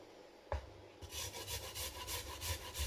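Fresh ginger is grated in a home kitchen, a thump followed by a quick run of rhythmic scraping rasps, quiet and close, with no voices.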